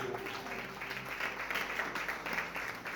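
A church congregation at a special worship service applauds and claps steadily for about three seconds, a dense, even patter with no pauses or single standout claps.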